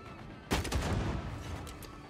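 Gunfire in the video game Banishers: Ghosts of New Eden, a sudden loud burst of shots followed by rapid cracks and booming echoes that trail off over a couple of seconds.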